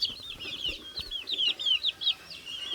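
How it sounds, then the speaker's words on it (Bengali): Native desi chickens on a farm give a run of short, rhythmic clucks. The calls are close and fairly clear over quiet background noise. "এটা হচ্ছে অরিজিনাল দেশি মুরগি"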